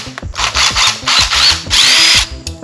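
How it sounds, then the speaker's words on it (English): A power drill whirs in several short bursts, revving up and down with brief pauses between, loud and close. "definitely getting a drill"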